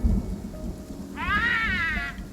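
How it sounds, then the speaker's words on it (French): Thunderstorm in the video game Raccoon Lagoon: a low rumble of thunder with rain-like noise beneath, joined midway by a bright, warbling game tone that holds and then fades. "Les tempêtes sont monnaie courante ici."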